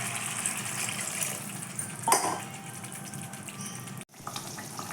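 Water pours steadily into a pan of fish curry with potatoes and spice paste, a continuous rushing gush heard up close with no talking, ending abruptly.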